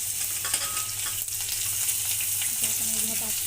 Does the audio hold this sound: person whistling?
no